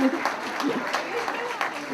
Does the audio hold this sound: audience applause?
yes